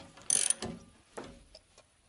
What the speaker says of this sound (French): je vais serrer provisoirement et légèrement mon écrou de 23.